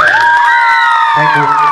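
A stage-show audience at Tiplai Bhakatpara cheers and claps in a loud, steady crowd roar, with bright whistling tones sweeping over it and a deeper hum entering near the end.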